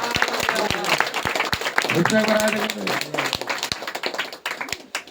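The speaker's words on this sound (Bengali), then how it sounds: "সবাই আবার হাততালি দিই" A church congregation claps in a steady rhythm, sharp regular beats running under loud singing and a voice leading worship.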